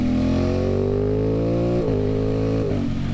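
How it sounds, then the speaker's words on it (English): An Aprilia Tuono motorcycle fitted with lightweight sprockets and a lightweight brake rotor revs hard nearby, its loud engine note climbing and then dropping back in sharp throttle blips, with no voices. "Oh yeah, engine's way more lively."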